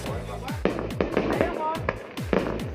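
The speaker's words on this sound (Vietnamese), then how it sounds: "Pháo hoa này là pháo hoa kém chất lượng rồi, bắn." Low-quality fireworks go off at a Lunar New Year's Eve celebration in the Hoàng Su Phì highlands of Hà Giang, Vietnam. A rapid series of pops and crackles sounds under repeated descending whooshes, and people talk throughout.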